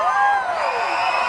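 An audience at a live Telugu comedy show in Dubai shouts and whoops together, a loud sustained burst of overlapping voices with rising and falling cries.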